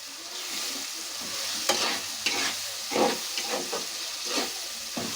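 Tomato pieces with salt being stirred in a pan, with a steady sizzling hiss of frying and repeated scraping strokes of the spoon, close and fairly loud, no voices.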